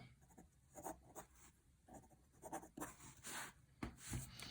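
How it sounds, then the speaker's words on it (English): A Uniball Air rollerball pen writing lightly on paper, soft scratchy strokes in quick irregular bursts with brief pauses between them, close and quiet. "you can write lightly"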